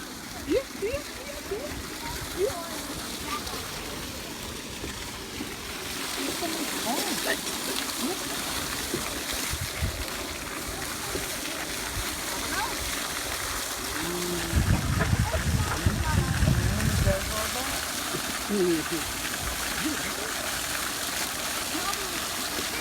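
A zoo water fountain splashes steadily throughout, a broad wash of falling water with a heavier gush near the middle, while voices talk intermittently nearby.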